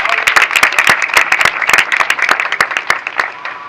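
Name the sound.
applause in a church service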